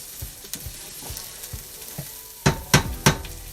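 Ingredients for a pizza sauce stirred in a hot sizzling pan, a steady fry hiss with a run of soft rhythmic scrapes, then three louder clattering knocks of utensil against pan near the end, close and without talk.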